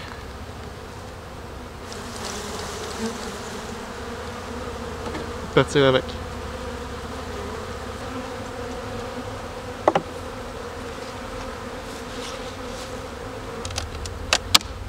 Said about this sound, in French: Alors, je vais secouer les abeilles.